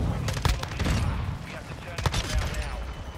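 Gunfire in the video game Modern Warfare 2: a few sharp shots near the start, then more sharp cracks around the middle, with background game noise and a voice talking between them.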